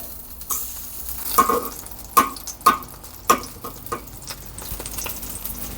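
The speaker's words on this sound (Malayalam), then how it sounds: "ഞാൻ ഇതിലേക്ക് നല്ലൊരു സ്പൂൺ ബട്ടറാണ് കേട്ടോ ചേർക്കുന്നത്" A spoon of unsalted butter sizzles in a hot pan for a home-cooked dal, a steady frying hiss punctuated by several sharp clinks and scrapes of stirring, close and clear with no talk.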